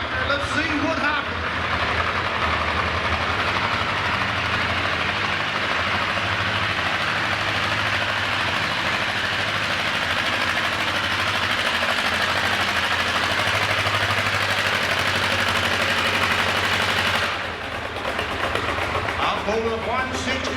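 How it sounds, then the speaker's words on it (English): A Kinsey tractor's engine at a winter tractor pull in Chatham, Virginia drones and rumbles loudly and steadily for a long stretch, then drops off near the end, with an announcer talking over it. "On the Terminator, we got a Buckley boy on a Kinsey tractor."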